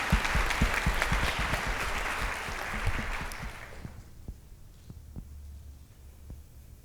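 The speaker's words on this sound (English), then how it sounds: "let's give a round of applause one more time for our two guest speakers." An audience at an education conference applauds two guest speakers with a steady wash of clapping that tapers off after about four seconds into a few scattered claps.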